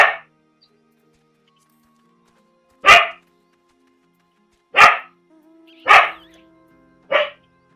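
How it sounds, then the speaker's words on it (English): Indoor dog barking in separate single barks, four to five loud nearby barks spread over several seconds with quiet gaps between them. "Sorry about my dog, guys."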